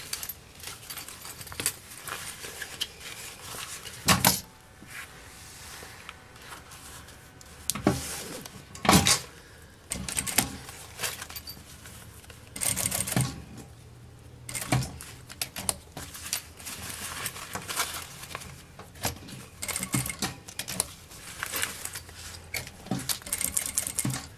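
A sewing machine stitching a fabric piece for a small vanity case, running in short bursts of rapid mechanical whirring with clicks and knocks between runs, close and fairly quiet.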